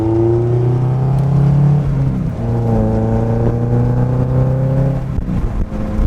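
Honda S2000 engine and exhaust with the muffler removed, droning steadily at cruise with a strong low harmonic tone that shifts pitch slightly as revs change, close and loud throughout.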